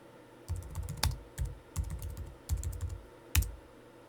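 Bursts of typing on a computer keyboard, with quick runs of close, crisp key clicks separated by short pauses and a few heavier strokes.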